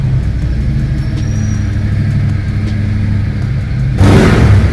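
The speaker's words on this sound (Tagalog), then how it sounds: "maingay yung motor ni Papa." A motorcycle engine idles steadily nearby with a low, rumbling drone, then surges louder near the end as it revs up.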